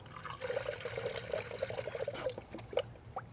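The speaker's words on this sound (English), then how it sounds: "the coolant is now coming out of this bleed screw" Toyota engine coolant trickling and dribbling out of an open bleed screw after a refill, a steady thin liquid splash with a few gurgling bursts near the end, close by and fairly quiet.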